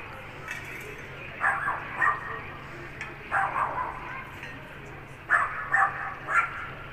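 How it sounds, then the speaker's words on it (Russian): A small dog barks in short clustered yaps, a few at a time with pauses between, somewhat distant and echoing over a quiet background. "Собачка гавкает."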